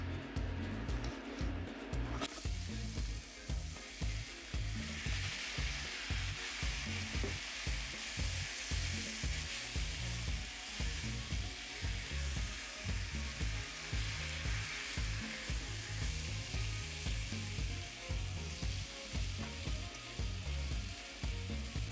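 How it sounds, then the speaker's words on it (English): Shrimp sizzle and crackle in hot vegetable oil in a pot. The frying is steady and loud from close by, with a pulsing stir-like rhythm underneath. No one speaks. "Now the oil is hot, it's time to add the shrimp."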